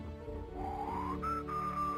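A character whistles in the video game Starfield, a soft rising melodic whistle then a held higher note, faint and near, over low in-game ambient sound.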